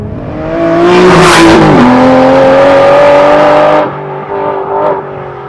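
A 2016 Aston Martin V12 Vantage S engine revs hard and loud, its pitch climbing and holding into a sustained scream before dropping back off, close by and with no talking.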